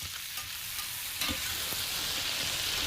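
Shredded cabbage sizzles steadily in hot bacon drippings in a pan while a spoon stirs it, giving a continuous close hiss with soft scraping strokes and no voices.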